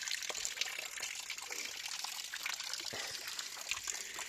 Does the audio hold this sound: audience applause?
no